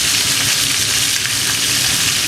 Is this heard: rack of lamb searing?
yes